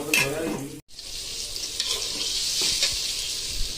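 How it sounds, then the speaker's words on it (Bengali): Sliced onions fry in a pan until crisp for biryani, giving a steady, close sizzle throughout with a brief break near the start and occasional stirring scrapes. "পেঁয়াজটা ভাজতে থাকি"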